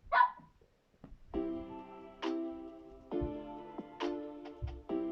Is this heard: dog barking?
yes